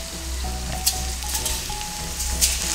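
Batter-coated burdock root pieces deep-fry in oil, producing a steady, dense sizzle with fine crackling bubbles. The sound holds at an even level throughout, close and continuous, with a faint tonal hum underneath.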